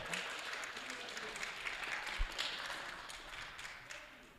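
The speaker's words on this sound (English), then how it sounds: "Give them a round of applause" Applause for volunteers at a state FIRST LEGO League robotics tournament, a steady wash of clapping from a crowd that fades slightly toward the end, with a sharp thump midway.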